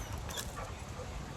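A dog whimpers indoors in a brief, soft burst of whiny, breathy sounds at close range, faint and alone.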